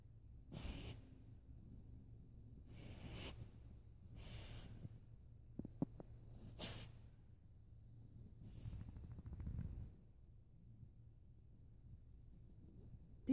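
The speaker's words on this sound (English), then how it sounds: "My dog's back to sniffing." A Bordeaux Mastiff's short, breathy sniffing bursts in snow, repeated several times with pauses between, close to the microphone in a quiet setting.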